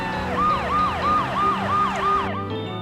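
An ambulance siren from the Happy Tree Friends cartoon wails in a steady rising and falling cycle, loud and close, heard alone with no talking.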